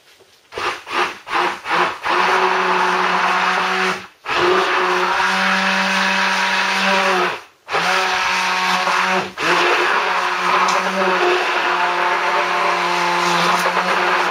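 An electric blender whirs loudly up close while blitzing double cream for soap, starting with a few short pulses and then running in long steady bursts with brief stops in between.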